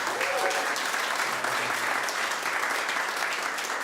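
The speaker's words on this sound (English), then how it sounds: "Should we give her another round of applause?" An audience gives a singer-guitarist guest another round of applause at an open-mic session: steady, dense clapping from a sizeable crowd, close and even throughout with no talk over it.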